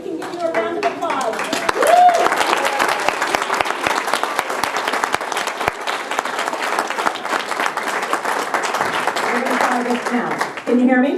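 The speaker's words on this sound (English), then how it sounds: "Could you all just do one big stand up and we can give you a round of applause." A room full of people gives a loud, sustained round of applause for a group of standing volunteers at a community event, dense clapping running steadily for about ten seconds before tapering off.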